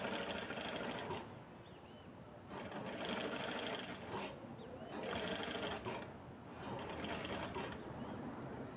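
Sewing machine stitching knit fabric strips for a soft rug, a close, steady mechanical whirring and chattering that runs in several long bursts with brief slowdowns between them, with no talk.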